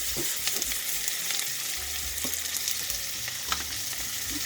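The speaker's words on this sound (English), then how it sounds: "since this oil is nice and hot, I'm going to wait a minute, and then I'm going to add a little bit more of the black mustard seed" Black mustard seeds frying in hot oil produce a steady, loud sizzle with scattered pops and crackles, continuous and close, with no voices.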